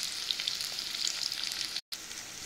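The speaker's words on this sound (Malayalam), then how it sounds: "ഈ സവാള ഇട്ട് കൊടുക്കാം അപ്പം ഇത് ഒരു ഗോൾഡൻ ബ്രൗൺ നിറം ആയി വരണം" Sliced onions frying in hot oil in a pan, a steady close crackling sizzle that holds even and continuous, broken only by a split-second dropout near the end, with no voices.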